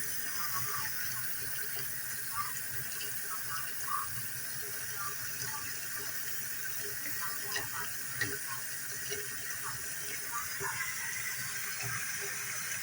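Running tap water pouring steadily into a sink while sweet potato slips are washed, a constant close hiss with faint small knocks and drips, no talk over it.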